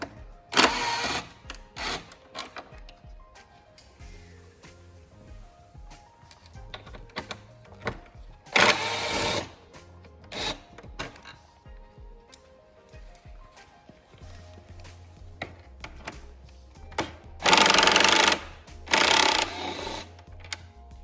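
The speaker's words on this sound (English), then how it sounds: "So let's go ahead and unscrew those 4 bolts." Torx 30 bolts are unscrewed from a Canyon front cowling body panel. Several short, loud whirring bursts are separated by quieter stretches of clicks and small mechanical taps.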